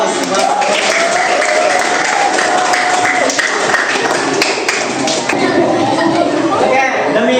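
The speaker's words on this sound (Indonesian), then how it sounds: "Oke, kasih aplaus." Audience applause after a classroom presentation on computational thinking and coding, a steady dense clapping from a nearby crowd lasting several seconds, with some chatter and voices mixed in.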